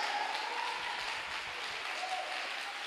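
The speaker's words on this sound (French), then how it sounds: "Est-ce qu'on peut acclamer pour notre bonheur?" A church congregation claps in sustained, even applause, a thick, continuous patter of many hands filling the room without pause.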